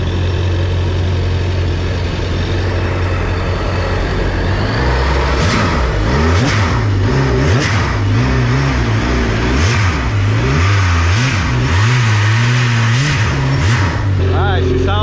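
A jet ski engine idles and then revs repeatedly in rising and falling bursts, loud and close, with a steady rumble throughout.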